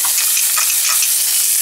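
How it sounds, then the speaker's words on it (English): Onion and anchovy fillets sauté in a pan with a loud, even sizzle that holds steady throughout, close up and with no talking. "Get my onion caramelized."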